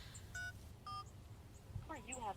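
Cellphone dialing tones: several short, clear beeps spaced apart, followed at the end by a ringback or ringing tone, all over low background hum.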